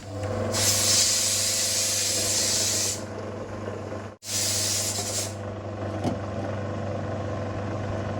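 A wet grinder churns millet batter with a steady low motor hum. A long bright hiss rises over the hum, cuts out briefly, then returns before fading back to the constant drone.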